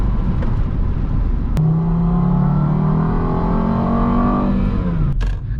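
A Volvo S60 R in sport plus mode accelerates hard, its engine note climbing steadily in pitch from a low drone to a loud, strained rev before easing off, with a clack near the end.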